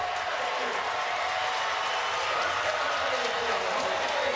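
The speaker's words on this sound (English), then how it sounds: "Listen to that home crowd." A home crowd roars steadily through the closing lap of a college men's 4x400 m relay at the 2012 USA Track & Field Classic, a dense, even wash of cheering beneath a commentator's voice.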